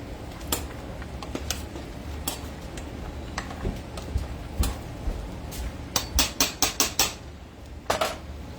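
A metal spoon clinks against a pot of chicken and dumplings, scattered light taps that turn into a quick run of sharper knocks near the end, with no talking.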